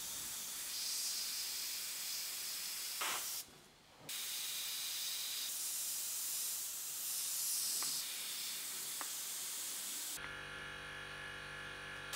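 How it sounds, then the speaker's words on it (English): An airbrush sprays paint in short bursts to put fine eyelashes on a portrait. It gives a steady close hiss that stops once, briefly, partway through, with no talk. "I'm gonna add in a few of those little eyelashes just using the airbrush. Just spray them in."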